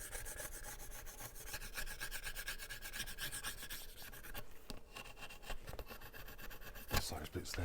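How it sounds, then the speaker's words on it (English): Hardened expanding foam being scraped off a window frame, a continuous close rasping and rubbing with quick repeated strokes and a few sharper scratches near the end. "If you scrape off the hardest bits, like these super loose bits like that,"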